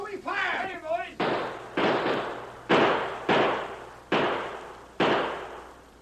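Gunshot sound effects in an old radio western drama, a rapid volley of about six sharp loud cracks with decaying echoes, evenly spaced after a brief shout.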